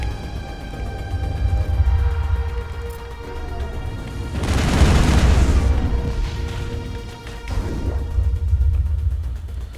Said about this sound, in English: Now let's switch to rifles